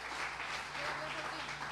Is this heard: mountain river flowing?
no